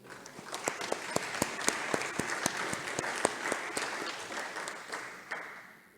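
Audience applause for award winners at a World Day of Prayer and Action for Children 2022 event, steady clapping from a sizeable crowd with sharp individual claps standing out, tapering off toward the end.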